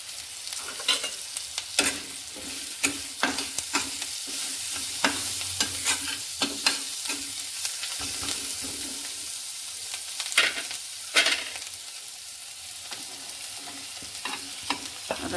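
Coriander frying in a pan while making dry prawn chutney, a steady close sizzle with repeated scraping stir clicks throughout, no voices.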